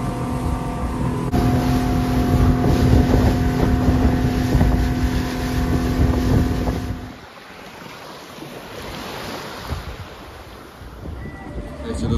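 A motorboat cruises across open sea in the Maldives toward an island, its engine droning loudly with heavy wind buffeting, then the engine noise drops away partway, leaving quieter wind and water.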